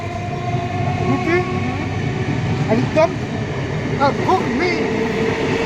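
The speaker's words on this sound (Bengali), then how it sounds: "এদিক দিয়ে কন্টিনিউ ট্রেন চলেই যাচ্ছে" A train runs past a railway station, its rumbling wagons filling the scene with a continuous roar, brief squeals and horn-like tones rising over it while people chat nearby.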